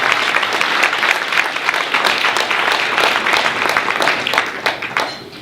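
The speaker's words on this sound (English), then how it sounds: "please do give him another round of applause" A banquet audience applauds Bob, a recently retired campus volunteer, at a university scholars' year-end dinner: full, steady clapping that goes on for several seconds and then tapers off.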